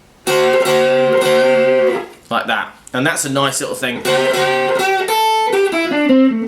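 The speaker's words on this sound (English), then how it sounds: "So I'm going to bend these notes so it sounds like this" Electric guitar notes bent upward a half tone and back, sustained and distorted, played in a few blues phrases with a brief spoken remark in the middle.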